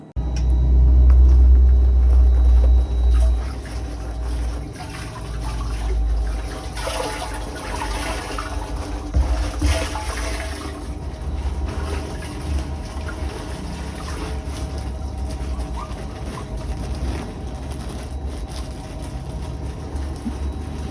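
Water from a hose pours into an aquarium tank, a loud rushing gush at first that settles into a steady, softer trickle and splash.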